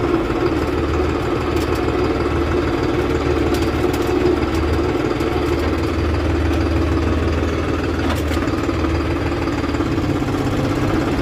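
New Holland 6510 Excel tractor engine running steadily at close range, a loud continuous diesel rumble with rhythmic knocking and vibration throughout, no talk.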